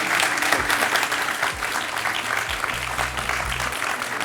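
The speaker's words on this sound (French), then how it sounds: "1 point, Laure, qu'on peut applaudir" Studio audience of a French quiz show breaks into steady applause for a contestant's point, a broad dense clapping that holds even throughout, with a low electronic tone sounding briefly near the end.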